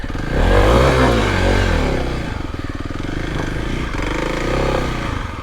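A Kawasaki KLX 300 dirt bike engine revs and drones on a technical trail hillclimb, loud and close, swelling and easing in pitch without any speech over it.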